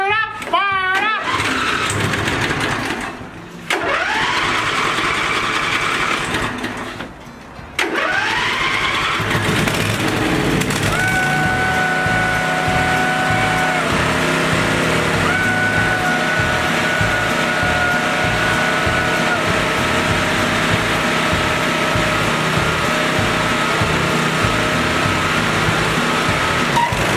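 A Briggs & Stratton V-Twin Intek engine with a newly replaced governor gear cranks in a few short bursts, catches, and settles into a loud, steady running drone. A voice talks over the opening attempts.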